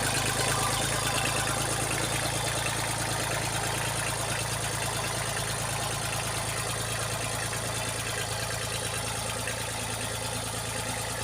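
A Kubota L2000 small tractor engine idles steadily at low speed, a constant chugging hum with no revving, heard alone and fairly close.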